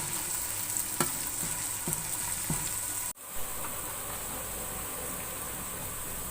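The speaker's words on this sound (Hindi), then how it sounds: "अब इसको थोड़ी देर भून लूंगी।" Two teaspoons of garlic paste sizzle steadily in a pan over already-browned onions for a degi aloo gosht curry, with a few sharp stirring clicks before the frying noise drops briefly and resumes.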